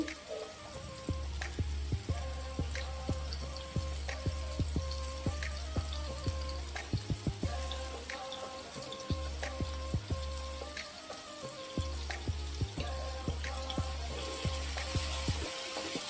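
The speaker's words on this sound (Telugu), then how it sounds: "కరివేపాకు వేసుకుందామండి." Curry leaves crackle and sizzle in hot oil in a pan for a mushroom curry, a steady close frying hiss dotted with sharp pops throughout, no voices.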